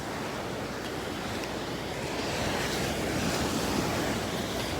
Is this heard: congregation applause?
no